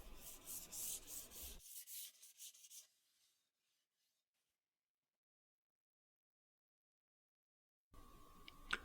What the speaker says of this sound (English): Now I'll sand by hand any places that I can't reach with the orbital sander.